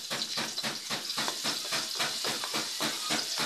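Garlic sizzles in hot oil in a pan while cooking vegetables for ginataang gulay, a continuous close hissing fry with rapid pulsing bursts of crackle and no voices.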